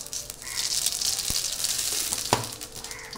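Radhuni seeds tempering in hot oil with bay leaves for a taro-stem tilapia curry, a loud continuous sizzle with a couple of sharp pops.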